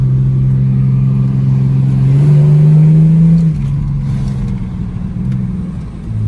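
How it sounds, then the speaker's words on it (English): Engine of an AU car fitted with a transmission cooler revs up under acceleration: a close, loud, continuous low drone that swells and climbs in pitch midway, then eases back to a rougher idle. "I'm accelerating it"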